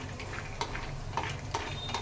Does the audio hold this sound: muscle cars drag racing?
no